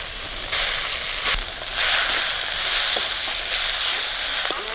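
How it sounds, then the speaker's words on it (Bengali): Garlic and onion, with ginger just added, sizzle steadily in hot oil in a home kitchen pan, a dense continuous hiss with occasional soft clicks of stirring, close and fairly loud. "রসুন আর পেঁয়াজ হালকা ভাজা হয়ে গেছে"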